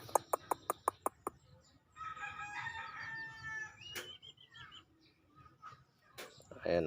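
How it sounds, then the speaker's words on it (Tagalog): Native chickens clucking and calling in a neighbour's yard in Bicol, with a quick series of sharp taps at the start and a few scattered bird sounds afterward. "Mga manok ng kapitbahay namin yan."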